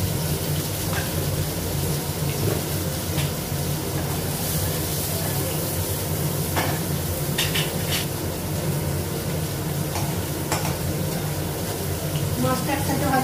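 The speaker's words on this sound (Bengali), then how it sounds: "মাছটা একসাথে ভাজা হয়ে গেছে।" Fish frying together in a pan on a gas stove in a Bengali home kitchen gives a loud, steady, dense hiss like heavy rain, with occasional faint crackles over its whole length.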